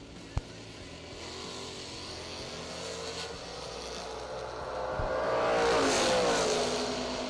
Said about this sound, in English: Dragster's starting to come around now.